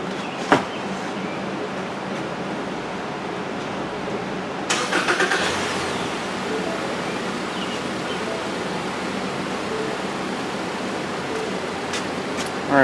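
A 2017 Ford Fusion with a low battery cranks and catches near the middle, then its engine settles into a steady idle under a constant background hiss.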